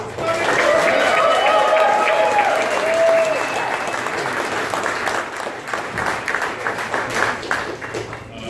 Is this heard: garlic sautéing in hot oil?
no